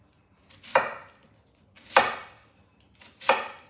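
A knife slices through Cubanelle peppers on a cutting board with three separate crisp cuts, each a sharp close chop followed by a short pause, and no talking.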